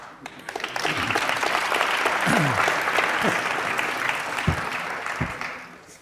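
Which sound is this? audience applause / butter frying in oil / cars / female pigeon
audience applause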